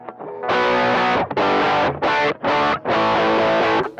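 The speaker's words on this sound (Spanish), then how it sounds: "Con distorsión." Electric guitar played through a Valeton Dapper multi-effects pedal with its distortion stage engaged, heard as loud, heavily distorted chords in several sustained bursts separated by short gaps, with no voices.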